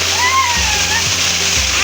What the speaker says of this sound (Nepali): झरनाको आवाज चाहिँ मेरो आवाज मजाले सुनेको छैन है